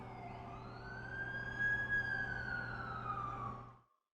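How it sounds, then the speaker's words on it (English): Ambulance siren in The Amazing Spider-Man 2 video game, a steady wailing tone over a low engine rumble, loud and close for about four seconds before cutting off abruptly. "That's the ambulance I called."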